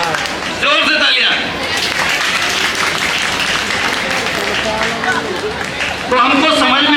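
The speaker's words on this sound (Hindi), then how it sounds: "जोर से तालियां।" An audience at a talk on depression claps loudly and continuously for several seconds, dense applause with a voice speaking over it at the start and end.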